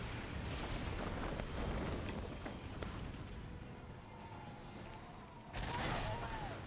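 Ship cannon fire in Skull and Bones, with deep booming blasts and rumbling explosions that roll and overlap at a moderate distance, fading slightly before a fresh burst of blasts near the end.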